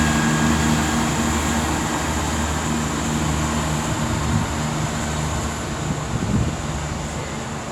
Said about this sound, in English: looks like 170-102 is now just about ready to depart